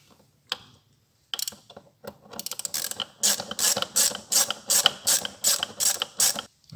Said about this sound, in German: Dann würde die Schelle die mal wieder festziehen.